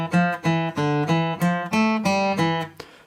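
Fingerstyle guitar plays two bars of a film theme as a steady string of close, ringing plucked notes and chords, with no voice over them.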